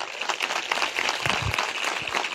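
A church congregation claps loudly during a youth sermon, a dense, sustained burst of many hands with scattered louder thuds, no voices over it.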